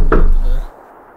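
A single heavy, close knock lands on a door in a Tamil short film scene, a low thud that rings briefly and then fades into quiet.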